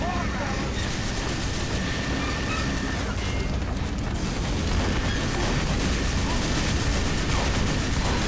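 Dense, steady gunfire and booming explosions from Team Fortress 2 form a continuous, cluttered barrage with no clear separate shots, while someone talks over the combat noise.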